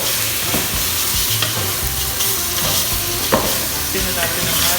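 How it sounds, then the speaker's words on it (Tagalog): Tender boiled beef is sautéed in a hot pan, a loud continuous sizzle with low rumbling and scraping stirs throughout, close up and without any talking. "ilagay na natin ang ating beef na malambot na. So pinakuloan na natin ito kanina para madaling maluto. Then igisa lang natin."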